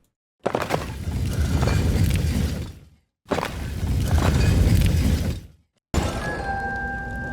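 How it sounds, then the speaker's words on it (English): Rusty, brittle chest locks in the video game MouseHaunt are blasted apart with a blunderbuss, giving three loud, crashing bursts of breaking and shattering, with brief silences between them and a ringing, clinking tail at the end. "The locks on the chest were rusty and brittle. A good blast from the blunderbuss would break them easy"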